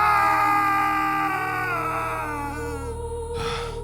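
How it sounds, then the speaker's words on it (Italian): Companions in an Italian audio drama retelling the Odyssey cry out in distress, a wavering, layered wail of several voices that slowly fades and tails off into a quiet, low rumble. "Udì soltanto le grida dei compagni"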